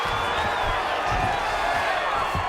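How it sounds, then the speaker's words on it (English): Arena crowd roaring at a UFC 5 video game fight between Islam Makhachev and Payton Talbott, a steady, loud wall of cheering and noise that holds without pause. "big pop from the crowd as they get back to their feet"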